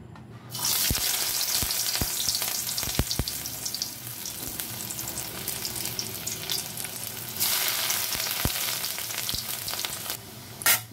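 Stuffed kakrol (spiny gourd) frying in hot oil, added piece by piece: a loud, steady sizzle with sharp pops and clicks scattered throughout, swelling again later on.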